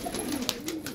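Pigeons on a home rooftop, soft low cooing from birds close by, with a faint sharper chirp midway, over a light background hiss.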